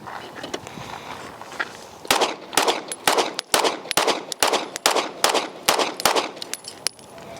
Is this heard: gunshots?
yes